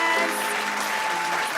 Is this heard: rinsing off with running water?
no